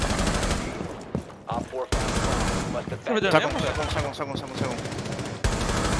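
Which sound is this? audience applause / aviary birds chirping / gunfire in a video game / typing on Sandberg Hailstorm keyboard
gunfire in a video game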